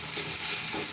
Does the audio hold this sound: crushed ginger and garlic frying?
yes